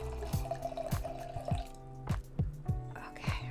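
Santo Winery 2018 Assyrtiko white wine is poured into a glass, giving a quiet series of rhythmic glugs and splashes, close and faint, with no talking.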